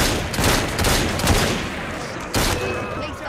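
Volleys of gunfire ring out in Assassin's Creed Syndicate, several sharp loud bursts and a rattling fusillade in quick succession, close and without speech.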